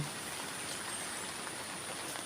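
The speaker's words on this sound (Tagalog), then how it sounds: "lakas po ng ulan halos araw-araw na lang po" Heavy rain pours steadily onto a flooded vegetable garden with squash plants sitting in water, a dense even hiss of drops with no voices.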